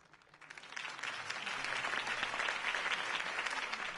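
Crowd applause after a political campaign speech in Batman: The Telltale Series video game, swelling in from quiet to a steady, dense roar of clapping that holds to the end.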